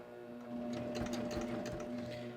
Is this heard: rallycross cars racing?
no